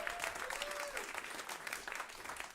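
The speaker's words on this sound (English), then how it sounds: "So just another round of applause." An audience claps steadily throughout, a dense wash of applause with a faint whistle or cheer rising and falling early on.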